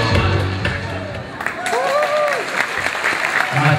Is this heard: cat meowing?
no